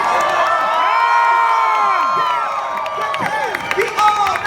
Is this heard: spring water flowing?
no